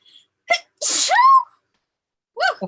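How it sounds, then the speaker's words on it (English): A person sneezes once, loudly and close, with a short breathy wind-up before the burst and a brief vocal sound afterward. "I gotta sneeze."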